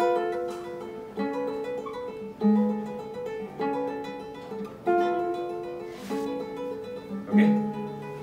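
A classical guitar plays a two-finger practice exercise as a short piece: plucked notes ring out in an even, repeating pattern about once a second, close and clear with no talking.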